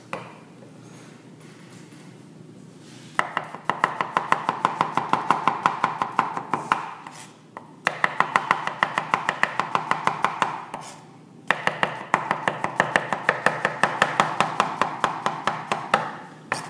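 A kitchen knife slices food on a cutting board using the claw grip, in three bursts of rapid, evenly spaced chops. Each burst lasts a few seconds, with short pauses between them.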